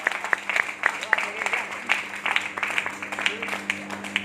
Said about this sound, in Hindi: और जोर से तालियां बजाएं पहले